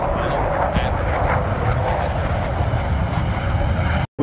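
Aircraft flying in formation at the Sun 'n Fun 2021 airshow, heard as a loud, steady broadband engine roar that holds through the passage before cutting off abruptly near the end.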